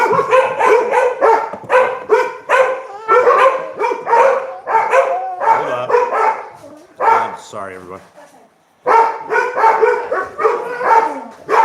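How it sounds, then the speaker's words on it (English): Several pit bulls bark in a rapid, loud, close run of repeated barks indoors, with a short lull before another burst, while a person talks over and between them. "The dogs are going crazy."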